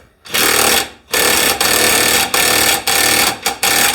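A DeWalt DCF903 cordless ratchet spins a nut in a cheap bench vise, loud and close, its motor buzzing in repeated runs broken by brief stops.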